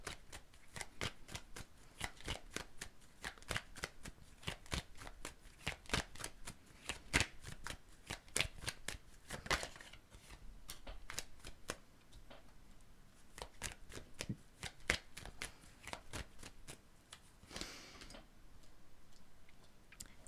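Tarot cards riffled and shuffled in quick, crisp bursts of flicking and snapping, then individual cards drawn and laid down with softer taps, close and fairly quiet with no talking.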